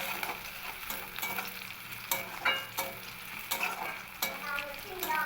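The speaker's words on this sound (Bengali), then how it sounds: "এবার আমি এই পেঁয়াজ রসুনটাকে একটু ভাজা ভাজা করে নেব আর দেব কিছুটা কাঁচা লঙ্কা" Onion, garlic and green chili fry in oil in a pan, giving a soft, close sizzle punctuated by several sharp scraping stirs and spattering crackles.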